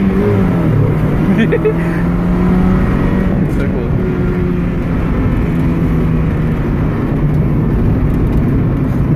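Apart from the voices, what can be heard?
Mazda Miata car engine revving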